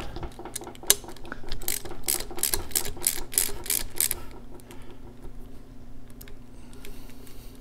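A ratchet fitted with a 7/16 socket loosens small bolts at the base of an engine's top end, giving a run of quick, close clicking bursts that fade to quiet.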